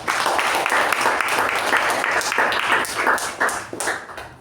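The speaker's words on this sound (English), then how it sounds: "Let's have a huge round of applause for our table topics master and the speakers" Warm applause from a Toastmasters club meeting, a close, busy patter of many hands clapping steadily before thinning out near the end.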